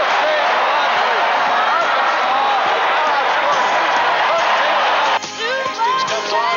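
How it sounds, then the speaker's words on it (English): At a basketball game, a dense crowd cheers and roars for Sidney Moncrief in a loud, sustained wash of noise that dips briefly near the end. "Listen to the crowd as they cheer Sidney Moncrief"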